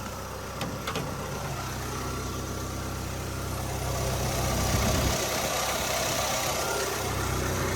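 A Ford Fairmont engine fitted with a Sniper 1-barrel EFI runs steadily on a dyno, a loud continuous low rumble with a slight rise in intensity partway through and no talking.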